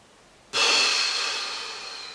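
A long, steady exhale during a slow, controlled breathing exercise, breath pushed out as a broad hiss that starts abruptly and fades gently over about a second and a half, heard close and alone.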